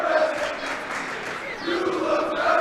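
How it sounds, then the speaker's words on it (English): A high school volleyball crowd at a regional final in Mosinee chants in unison, a loud, rhythmic wall of many voices filling a gym. "the "You look nervous" chant."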